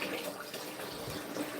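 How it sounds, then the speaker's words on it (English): Tap water pouring steadily into a big cooking pot, a continuous close hissing splash with no talking. "So we're going to put some water in this."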